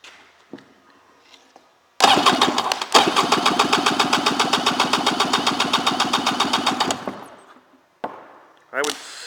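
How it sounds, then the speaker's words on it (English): A freshwater 2003 Polaris Virage 700 jet ski engine cranks on the starter for a compression test. A loud, rapid, even chugging runs for about five seconds and then stops, with faint clicks and short bursts of noise before and after. "We're going to do an engine compression test."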